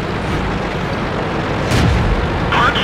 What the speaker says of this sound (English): But I do get a shot on that T-50.